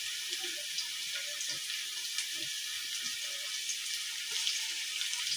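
Hands are washed under a running kitchen tap while dinner cooks, a steady, fairly quiet rush of water with faint clatter and background sounds beneath it.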